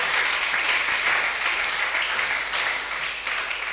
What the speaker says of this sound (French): Est-ce qu'on peut applaudir cet homme?